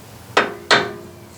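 Two sharp metallic hammer blows strike a steel tie rod arm during a tie rod end replacement, close and loud with a short ringing decay after each hit, about a third of a second apart.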